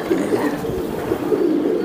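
Soft, steady cooing from a racing pigeon at a pigeon loft, a low murmuring call running through the whole stretch at moderate loudness, with faint background voices.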